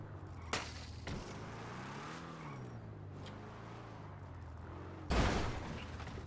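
Gunfire from a GTA RP video game shootout: a sharp broadband burst near the start, another brief shot, then a loud close volley near the end, over a steady low engine hum with a wavering tone.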